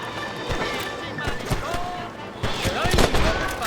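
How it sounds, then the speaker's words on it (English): Gunfire in Red Dead Redemption as enemies shoot down from a cliff top, a busy burst of overlapping cracks and shots mixed with shouting voices and game action. "They're shooting down on us!"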